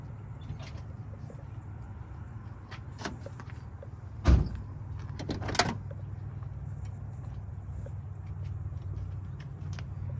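The door of a Ford 7.3 Powerstroke truck gets unlocked: one sharp, loud lock clunk and then a short burst of latch and mechanism noise, set against a low steady hum of the parked vehicle.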